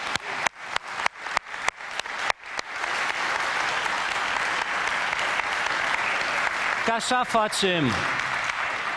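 A church congregation bursts into loud applause, first as rhythmic clapping in time, then settling into a sustained roar of clapping, with a voice speaking over it near the end.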